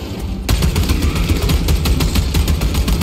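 Sustained automatic gunfire in Warhammer 40K: Space Marine 2, loud and close, a rapid unbroken stream of shots starting abruptly after a brief lead-in and running to the end.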